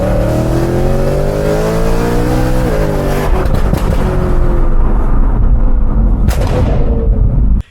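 A BMW M3 with a loud custom valved exhaust and rebuilt back box revs hard and continuously up close, its pitch climbing and falling, with a sharp crack near the end before it cuts off.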